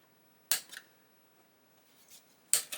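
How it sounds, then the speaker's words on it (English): Plastic parts of an Airfix 1/72 Lancaster B.III kit being snipped from the sprue with cutters; two sharp, close clicks about two seconds apart, with a softer snip between, in a quiet room. "I would seriously suggest getting the upper wings off the sprue."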